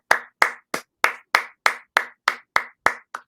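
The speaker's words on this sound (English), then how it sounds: "let's give Mr. Michael McCullough a virtual clap" Close, steady hand clapping, about eleven crisp claps in even rhythm, loud and alone, given as a virtual clap for a guest on a real-estate talk show.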